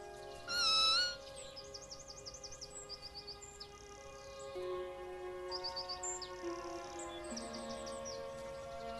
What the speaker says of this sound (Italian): Una femmina a lei imparentata sente il miagolio